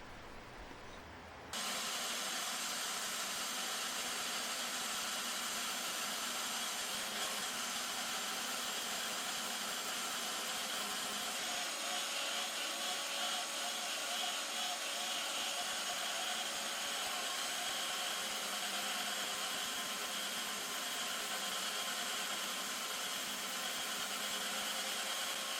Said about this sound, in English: Got it all marked out and took it over to the portable bandsaw.